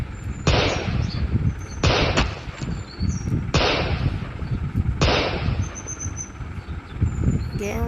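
Gunfire in the mobile shooter game Gun Sprint: four sharp shots spaced about every one and a half seconds, each leaving a short decaying tail over a steady low game background.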